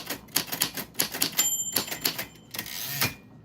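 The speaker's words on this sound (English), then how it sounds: "Your name was on the typewriter bell, and that's how it works." Rapid, irregular clacking of typewriter keys struck close up, with a few bright metallic dings from the carriage bell ringing through the run of keystrokes.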